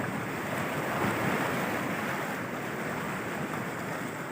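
Sea waves wash steadily onto the shore at Baler, Aurora, a dense, continuous surf roar mixed with wind buffeting the microphone, with no voices.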